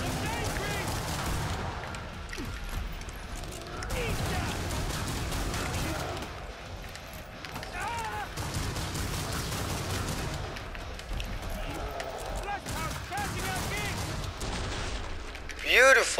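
Sustained gunfire in Killing Floor 2, repeated shots and bursts rattling almost continuously over the stretch amid chaotic game noise, with a player's voice talking over parts of it.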